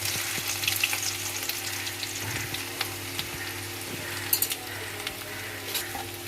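Garlic sizzles and fries steadily in a hot kadai while chicken lollipop is being prepared, with occasional stirring clicks over the constant crackle.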